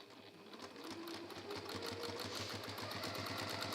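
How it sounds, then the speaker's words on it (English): A sewing machine runs steadily through a top stitch near the edge of a bag, its needle chattering in a fast, even rhythm that stays close and loud throughout with no talking. "then come back in with a top stitch closer to the edge"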